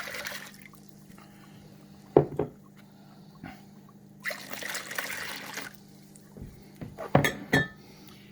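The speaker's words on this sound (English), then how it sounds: "So we're going to add our 4 cups of water." Four cups of water poured into a bowl for bread dough, with soft trickling between sharp clinks of a cup or utensil against the bowl, close and fairly quiet over a steady low hum.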